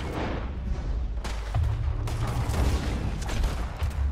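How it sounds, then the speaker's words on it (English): A woman firing a gun out of her purse in the Western game Red Dead Online: a few heavy, booming shots among a dense rumble of ongoing gunfire, loud and close throughout. "Oh, she shot him out of her purse!"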